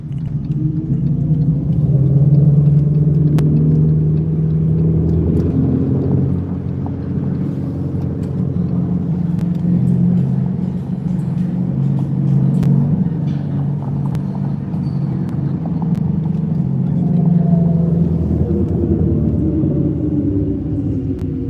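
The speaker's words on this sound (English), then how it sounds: "this Duramax diesel right here" A deep, steady Duramax diesel truck engine rumble idling close by, low and continuous throughout with no talking.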